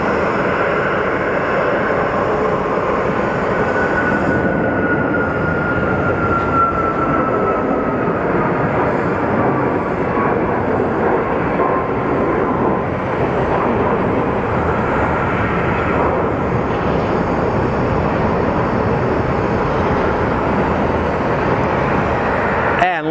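A United Airlines airliner departs Phoenix Sky Harbor bound for Washington, its jet engines sending up a steady loud roar with a slowly shifting whine, and someone talks faintly over it.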